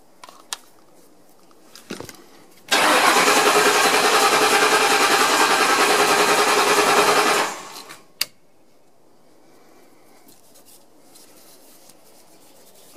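A 2006 Ford Crown Victoria P-71 with a swapped coil and a leaking intake manifold cranks on its starter button. A steady, loud grinding whir lasts about five seconds, then cuts off, leaving faint clicks.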